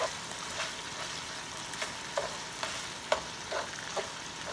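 Bacon fries in a skillet with a steady sizzling hiss, broken by periodic scraping stirs as the meat is broken up, close and alone.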